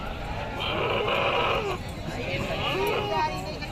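Goats bleating at a busy Eid al-Adha livestock market on the Hala Naka bypass in Hyderabad, with loud wavering cries repeating close by over a constant crowd murmur and nearby voices talking.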